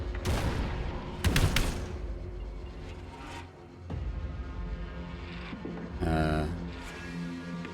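An acid grenade is lobbed and bursts in the turn-based tactics game Deep Fringe, heard as a few heavy booms and impacts over a low game rumble, with a warbling burst near the end.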